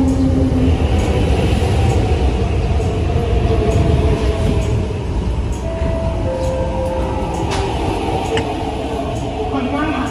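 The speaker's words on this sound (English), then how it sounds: "So yan na yung train." A train rumbles in loudly and steadily, with a faint metallic squeal from the wheels as it pulls up close by.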